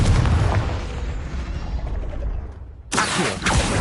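A loud, booming fiery blast from the Confringo spell in the game Hogwarts Legacy, a rumbling explosion that fades out before a second burst hits near the end.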